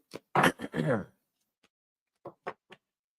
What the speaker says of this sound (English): I will start to need to clear my throat